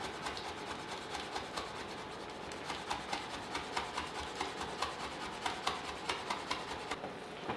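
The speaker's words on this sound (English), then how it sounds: "with the kaffir lime, just shred it really, really finely, like really fine." A knife finely shredding kaffir lime leaves on a cutting board for a Thai mushroom and eggplant curry, a quick run of soft, regular chopping taps, faint and close, with no speech.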